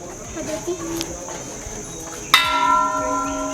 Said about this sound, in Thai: เด็กอยากตีระฆังไหนตีสิ